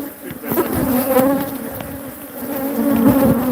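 A swarm of angry killer bees buzzes steadily inside an old mining hoist, a dense, continuous drone that stays loud and close from start to finish.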